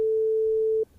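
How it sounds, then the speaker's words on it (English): A synthesized 440 Hz sine wave, one pure steady tone held without change for close to a second and then cut off cleanly, heard alone. "that's a sine wave at 440 hertz"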